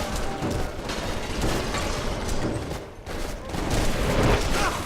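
A gunfight in the action game Stranglehold, with a dense, continuous barrage of overlapping shots and impacts rattling close by for several seconds.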